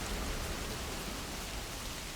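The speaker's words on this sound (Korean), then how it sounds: "가만히 땅을 적시는 빗소리만이 일정할 뿐." Steady rain soaks the ground at night amid ruined buildings in the game Dungeon Fighter, an even, continuous hiss with no break and no voices.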